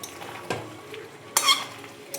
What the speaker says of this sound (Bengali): বরবটিকে সিদ্ধ করে মিক্সিতে পেস্ট করে নিয়েছি। এখন এটা তেলে নাড়ছি।